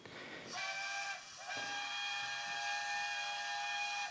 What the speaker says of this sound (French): ça, c'est le son du RER A qui vous amène en gare de la Défense